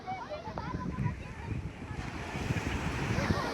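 Sea waves wash and surge on a beach, a rough churning rush mixed with gusty wind noise on the microphone, while people talk over it.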